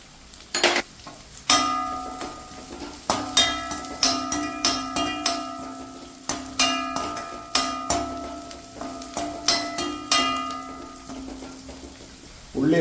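Shallots, garlic and green chillies frying in a pan for dal curry, with a soft sizzle under a steady run of sharp metallic clinks from a spoon stirring against the pan.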